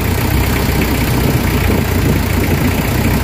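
A Nissan Vanette engine with a low-power, throttle-delay fault idles steadily, a loud continuous rumble with no voices.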